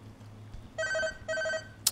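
A phone rings twice in a gas station at night, two bright electronic trilling bursts close by, each about half a second long, over a low steady hum, followed by a brief sharp click.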